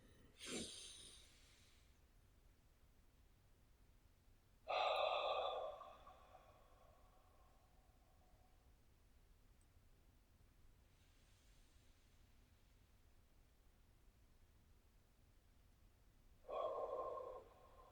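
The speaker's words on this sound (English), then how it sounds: "let's take a couple of deep breaths together" Deep breaths: three long audible exhales spaced several seconds apart, each a breathy rush that swells and fades, with quiet stretches between them.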